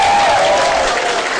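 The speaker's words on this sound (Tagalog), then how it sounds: "Palakpakan natin ulit yung mga bisita natin." Sustained applause from an audience clapping for guests at a gathering, dense and steady throughout, loud and close with no talk over it.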